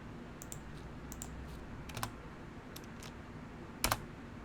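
Quiet clicks on a computer keyboard, a handful of sparse, separate keypresses with a slightly louder double tap near the end, in a still room.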